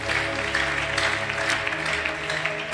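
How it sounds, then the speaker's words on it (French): A church congregation applauding and cheering, a dense wash of clapping with voices and sustained tones underneath, close and steady throughout. "Est-ce que tu peux d'abord acclamer pour toi-même?"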